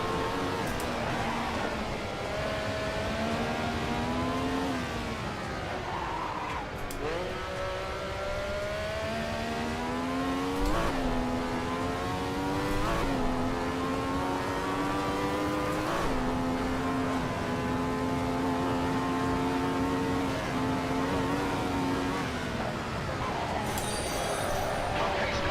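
A race car lapping vintage Monaco in the Assetto Corsa sim: a continuous, loud engine note rising and falling through gear changes and revs, with repeated upshifts and brief lifts, heard alongside a talking voice.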